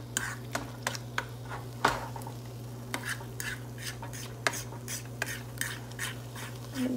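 Smoked sausage pieces and egg cooking in a pan for breakfast, with a spatula scraping and clicking against the pan in irregular taps over a steady low background hum, no talk.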